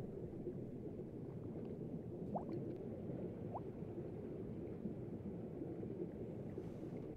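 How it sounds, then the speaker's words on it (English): Ambient ocean soundscape in Minecraft, a low, steady underwater rumble and wash with a couple of faint, brief rising chirps, quiet and continuous without speech. "you can hear some new ambient ocean sounds as well"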